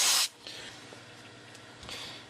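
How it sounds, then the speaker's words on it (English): A short, loud hiss from a can of freezer spray bursts out at the start and cuts off abruptly, followed by faint rustling and a softer puff near the end. "So if you give it a quick blast with freezer, it just goes obviously completely nuts."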